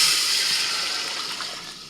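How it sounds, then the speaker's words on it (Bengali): Boiled chicken stock is poured out to be measured for Afghani chicken pulao, a brief, steady splashing pour that starts strong and slowly tapers off. "এবার এই চিকেন সিদ্ধ জলটাকে আমি একটু মেপে নেব"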